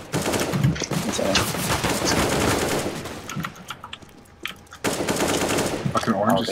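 Video game gunfire rattles in dense automatic bursts, rapid overlapping shots that drop into a quieter stretch of scattered pops before loud firing resumes, with faint voices in the background.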